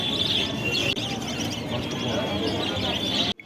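Lovebirds chirp in a dense, steady chatter at the Garia bird market, a bright continuous twittering over a busy crowd hum that runs throughout and cuts off abruptly at the end.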